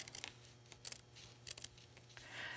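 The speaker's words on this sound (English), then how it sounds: "Take a pair of sharp, small scissors, and you're going to trim as close as you can to the" Small sharp scissors trim fabric close around an appliqué letter, giving several quick, crisp snips in short clusters over a low steady hum, fairly quiet and close.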